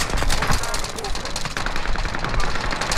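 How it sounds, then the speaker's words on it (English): Rapid automatic gunfire from hip-fired weapons in a zombie video game, a dense sustained burst of loud shots filling the whole stretch, with speech faintly in the mix. "Hip fire. Remember, hip fire."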